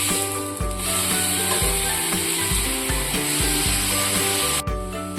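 Pineapple slices frying in ghee over a low flame, a loud continuous sizzle up close with repeated scraping and clacking of a spatula turning them in the pan.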